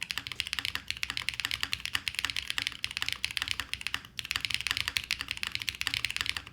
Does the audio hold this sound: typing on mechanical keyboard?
yes